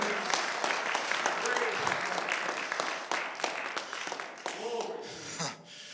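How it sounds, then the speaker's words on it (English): A church congregation claps steadily and enthusiastically at a revival service, a dense wash of hand claps filling the room, with voices mixed in underneath. "give him a hand clap of praise in the building"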